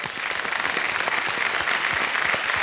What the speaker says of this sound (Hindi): सबसे पहले जोरदार तालियां बज जाएं इनके लिए।